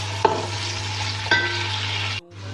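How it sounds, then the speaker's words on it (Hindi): Onions fry in a pan on the way to light brown, a steady close sizzle broken by two sharp stirring scrapes and clinks before a brief cutoff near the end. "इनको मैं लाइट ब्राउन करूँगी प्याजों को।"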